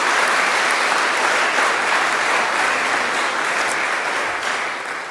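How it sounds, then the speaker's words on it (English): Sustained applause from an audience honoring award nominees at the 2021 Australian of the Year Awards ceremony in Tasmania, a dense, even wash of clapping that fades slightly toward the end. "Give those nominees a round of applause."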